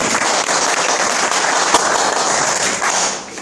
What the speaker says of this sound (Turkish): Alkış alabilirim ama.